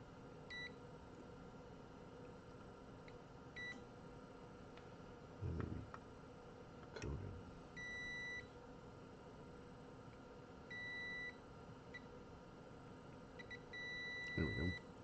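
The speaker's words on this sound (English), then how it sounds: "With our meter still on continuity, we can go to that little bitty hole" A multimeter on continuity gives short high beeps, several separate chirps and a few held tones, while probes test traces on a damaged Rockford Fosgate 150S amplifier board over a faint steady hum, with occasional handling thumps.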